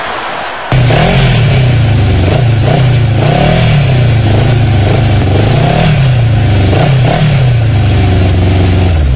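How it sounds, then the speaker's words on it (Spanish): A Suzuki motorcycle engine revs loud and close in a broadcast advert, the pitch climbing and falling in repeated surges over a steady rumble, with no voices. "La moto sigue prendida, tocayo."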